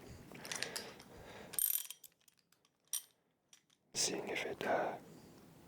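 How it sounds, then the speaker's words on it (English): Socket wrench tightening a bike part, close-up ratcheting clicks in short bursts with quiet gaps between, alongside soft whispering. "actually attach the socket part and try tightening it up properly"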